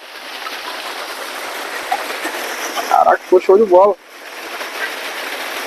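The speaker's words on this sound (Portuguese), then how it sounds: "Ele passou um cano por baixo, de um lado um pocinho que tem ali. Caindo aqui, ó. Fez uma cascata." Water falls from a pipe into a small pool at a campsite near Visconde de Mauá, a steady rushing splash close by that carries through the whole stretch, with someone talking over it briefly partway through.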